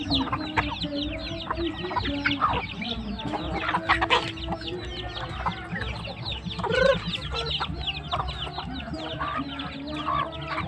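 A flock of hens and their chicks, Integra crossbreeds and pure Basilan hens, clucks busily nearby, with overlapping clucks, cheeping and a few louder squawks filling the yard continuously.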